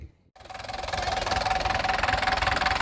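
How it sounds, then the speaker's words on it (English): A vintage tractor engine at a steam and vintage engine rally, starting up after a short silence and then chugging steadily with a rhythmic mid-pitched throb close by and loud. "I think we've got a tractor coming"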